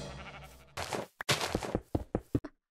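Sheep in the Minecraft video game bleat several times in short, bright bursts, close and clear, after a brief low rumble at the start.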